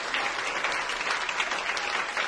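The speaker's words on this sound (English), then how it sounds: "Clap, louder. Get louder here." A crowd at an executive management training session claps loudly and steadily for a couple of seconds, a dense, continuous wash of many hands with no voices over it.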